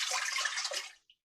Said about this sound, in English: We're going to pour it in here.